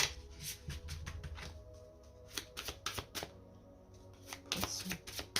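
A tarot deck is cut and shuffled close by, making quick crisp riffles and sharp card taps in irregular bursts against a quiet room.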